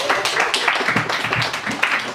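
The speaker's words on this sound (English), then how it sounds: "Round of applause for Ken." A comedy club audience gives a round of applause, dense clapping that runs steadily throughout at moderate loudness.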